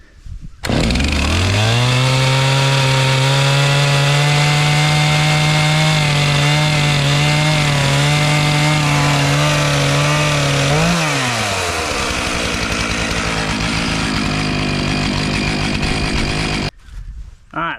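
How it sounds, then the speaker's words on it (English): Old STIHL 025 chainsaw cutting into a dead fallen tree, the engine loud and close, holding at high revs, then bogging and dropping in pitch as the chain bites into wood before cutting off. "This is my grandfather's old STIHL chainsaw."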